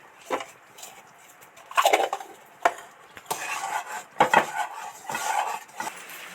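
A spoon stirs sago khichuri with added batasha sugar drops in a pot, giving intermittent scraping and clinking strokes against the metal at an uneven rhythm, close and moderately loud.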